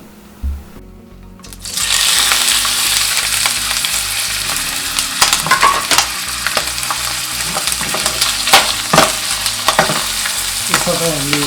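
Boiled sapu mhicha, a Newari bone-marrow dish, frying in hot oil: a loud, dense sizzle that starts suddenly after a brief thump and continues steadily, with crackles and pops scattered throughout.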